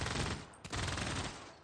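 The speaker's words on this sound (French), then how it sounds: "grand coup de mitrailleuse dans leur bouche" A burst of machine gun fire in a World War I strategy video game, rapid loud shots for under two seconds with a brief break midway.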